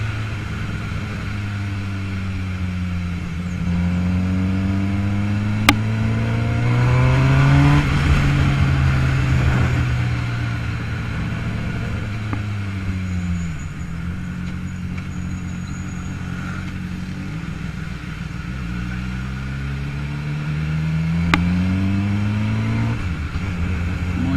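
A Honda CBR 600F sport motorcycle engine drones steadily while riding, its pitch climbing and falling through several gear shifts, loud and continuous throughout.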